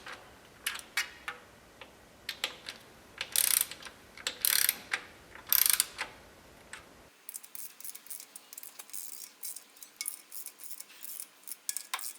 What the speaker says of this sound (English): So I'm going to torque it down 10 foot-pounds.